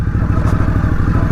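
An Indian Scout Bobber motorcycle rumbling along close up, a loud, steady low engine throb with a fast, regular pulse and no speech over it.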